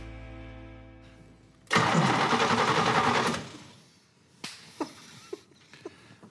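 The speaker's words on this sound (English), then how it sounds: "Engine sounds great." A 1966 Oldsmobile Cutlass engine cranks and catches with a loud, close roar for about a second and a half, then drops away, leaving a few faint clicks and knocks.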